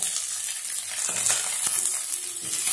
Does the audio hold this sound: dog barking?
no